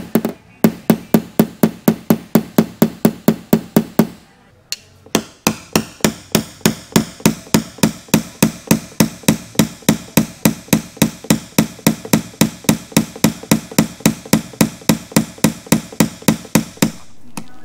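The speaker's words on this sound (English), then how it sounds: "And this is actually a blending hammer." A blending hammer taps out dents on the hood and roof of a Mini JCW during paintless dent removal, giving long runs of sharp, evenly spaced metallic taps, close and loud, with a brief pause early on.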